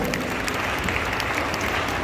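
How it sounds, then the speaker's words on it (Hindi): A crowd applauds loudly at a closing ceremony, with dense, continuous clapping washing over the whole moment and no talking over it. "एक बार चाहता हूँ जोरदार तालियां दिल से बजाइए।"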